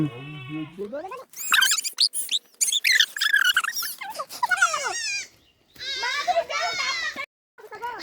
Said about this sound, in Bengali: এই ছাগলটা পিছে পিছে পড়ে যাচ্ছে।